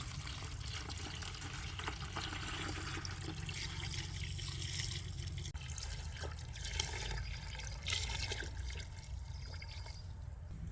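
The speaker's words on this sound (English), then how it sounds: "After that, fill the bucket with non-chlorinated water." Non-chlorinated water pours into a bucket, a continuous splashing, trickling rush that stays steady and fairly close, with a few brief knocks and shifts partway through.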